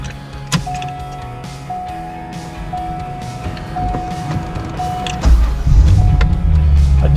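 The steering wheel lock out module on a C5 Corvette runs as a thin, steady electric whine inside the car, repeating in short runs, while heavier thumps and rumble build toward the end.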